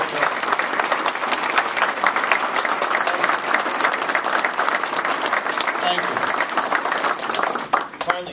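Sustained audience applause at an Ohio corporate announcement with the governor, dense steady clapping for several seconds that thins briefly near the end.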